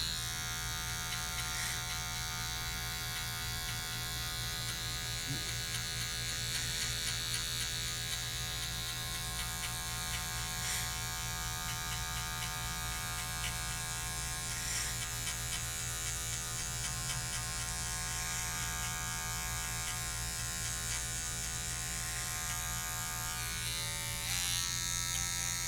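Electric hair clippers fitted with a 1.5 guard buzz steadily and close up as they fade hair during a high fade slick back haircut, a constant hum with small shifts in pitch as they move.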